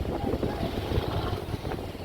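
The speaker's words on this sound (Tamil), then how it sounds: "அலை பயங்கரமாக வந்துட்டு இருக்கு பெஸ்டீஸ்" Surf crashing at Kanyakumari under strong, gusty wind buffeting the microphone, a steady roar of breaking waves and water rush filling the whole stretch with little letup.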